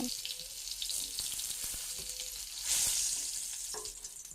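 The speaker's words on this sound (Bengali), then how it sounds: "একটু ব্রাউন না হওয়া পর্যন্ত এইভাবেই ভেজে নিতে হবে" Pieces of pointed gourd (potol) fry in hot oil with a steady, close sizzle and occasional stirring clinks, with no talk over it.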